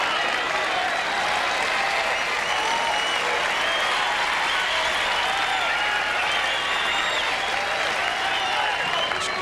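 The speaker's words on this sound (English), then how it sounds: "This crowd behind Gimelstob at this point, they want this match to continue" A tennis crowd at the 1998 Los Angeles match between Gimelstob and Agassi claps and cheers steadily at match point, a dense, loud wash of applause that holds for the whole stretch.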